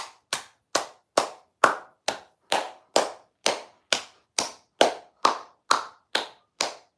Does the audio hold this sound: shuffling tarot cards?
no